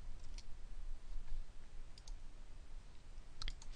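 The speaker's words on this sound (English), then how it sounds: "So I can actually click the list of value button," Computer mouse clicks come in a few sharp, quiet taps, single and in quick pairs, over a faint steady room hiss.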